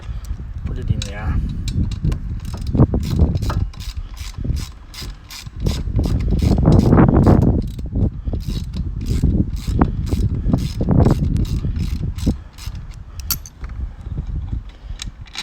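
Ratchet wrench working the clutch bolts loose on a 49cc engine: steady, close clicking pawl strokes in long bursts with brief pauses, plus metallic handling noises.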